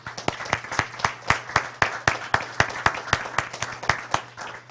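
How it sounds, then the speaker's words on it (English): Applause from an audience at a women's basketball press conference, heard as a run of sharp, evenly spaced claps about four per second, fairly close and steady over a low hum. "Let's give her a round of applause, please."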